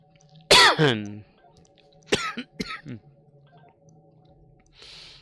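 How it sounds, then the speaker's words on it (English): A person coughs hard and wetly, a loud burst followed by a few shorter harsh coughs and throat clearing, close to the mic over a faint steady background hum. "Damn you, fluid cough."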